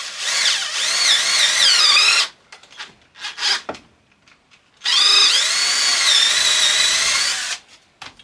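A power drill bores holes in wood for a small end table in two loud, close bursts of whining motor. Brief scraping and handling noises fill the gap between them.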